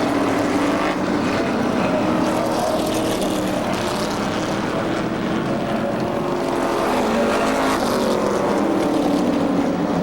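Race cars on track at Seekonk Speedway produce a continuous, loud engine roar that swells and fades slightly as they circle, with no clear breaks.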